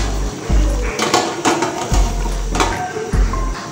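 A metal lid goes onto a cooking pot of crayfish, onion and seasoning: several sharp metallic clanks and rattles close by, among soft kitchen noise.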